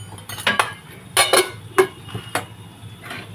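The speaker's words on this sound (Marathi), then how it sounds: "हे आपण हलवून घेऊ." Metal utensil scraping and clinking against a cooking pot while stirring chilli powder, turmeric and spices for a fish dish, sounding as a handful of sharp, irregular knocks and scrapes close by.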